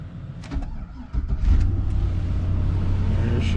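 A 2002 Chevy Suburban engine starts with a brief crank of clicks and whirring, then catches and settles into a steady, close idle rumble.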